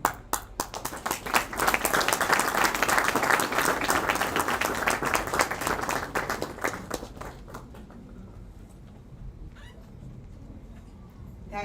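An audience applauds loudly after a devotional stage play at a birthday celebration, dense rapid clapping for several seconds that thins out and fades to quiet with scattered claps near the end.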